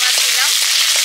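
Prawns frying in a pan with garlic and green chillies, a loud close hiss of hot oil with a few soft stirring scrapes over about a second.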